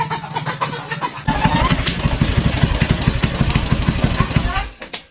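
A motorcycle engine idles with a rapid, even chugging pulse that starts abruptly and runs close and steady before cutting out at the end, with voices talking over it.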